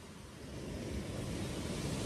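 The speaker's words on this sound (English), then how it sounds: "all of a sudden the wind, it was forecast to pick up" Strong wind gusting across a shingle beach at Chesil Beach in Dorset, a steady roaring rush with surf mixed in that swells louder over the two seconds, with no voices.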